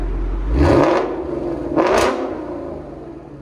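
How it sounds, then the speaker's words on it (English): A 2021 Ford Mustang GT 5.0L V8 fitted with a Corsa Xtreme cat-back exhaust and double H-pipe blips its throttle twice, each rev swelling loud and fading back to idle, close by with no talking. "Rev it."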